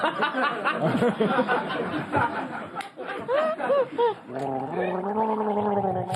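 Someone gargles water while attempting to sing a film title, producing bubbly wavering tones, with laughter and snickering from people nearby and a sustained gargled hum near the end.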